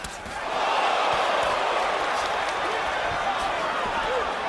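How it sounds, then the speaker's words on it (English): A boxing arena crowd in Atlantic City roars during the Sergio Martinez vs Paul Williams rematch, the noise swelling quickly and holding as a broad, loud wash of cheering with a commentator talking over it. "That exchange gets a rise out of the crowd here in Atlantic City"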